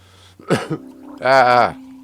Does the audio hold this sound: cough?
yes